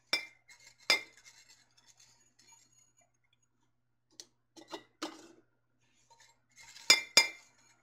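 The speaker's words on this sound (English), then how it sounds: "I'm going to equally distribute all of this onion into my jars" A spoon clinks against glass canning jars while chopped onion is shared out for a raw-pack beef stew: a few sparse, light taps and chinks separated by quiet pauses.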